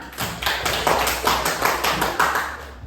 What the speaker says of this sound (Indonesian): Silakan duduk, tepuk tangan dong